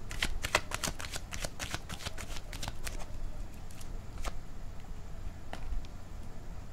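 Tarot cards shuffled in a rapid run of crisp riffling snaps and flutters, close and clear, dense at first and then thinning to scattered flicks, with no talking.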